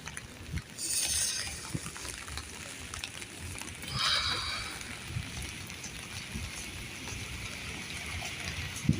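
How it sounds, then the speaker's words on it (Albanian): Heavy rain pours down on a cold, rainy day, a steady broadband wash of water falling everywhere, with a few brief louder splashes and surges over the constant hiss. "Shiko është shumë shi."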